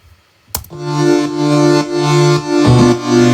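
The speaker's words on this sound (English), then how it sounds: "Synth itself is just an operator synth from Ableton called Power Chords Guitar." Sustained synth pad chords from an Ableton Operator Power Chords Guitar patch hold steadily, swelling slightly, then change to a new chord near the end; no voices.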